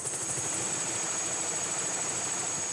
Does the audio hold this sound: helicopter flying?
yes